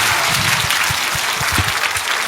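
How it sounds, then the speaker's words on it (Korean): Dense, loud applause from an audience at a political gathering, steady continuous clapping close by for the whole stretch without a break. "박수하겠습니다"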